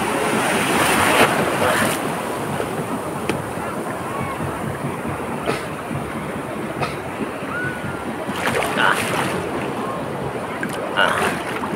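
High ocean waves break and rush around a boat at sea, loud surging water with wind buffeting the microphone and repeated splashes throughout.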